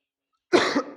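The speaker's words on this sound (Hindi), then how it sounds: "थोड़ी सी खांसी आ रही है" A single short cough, close and fairly loud, after a moment of silence.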